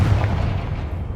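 A Confringo fire spell goes off in Hogwarts Legacy, one short low rumbling blast that fades quickly, loud and close, with no talking.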